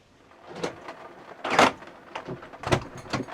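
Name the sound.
van door being closed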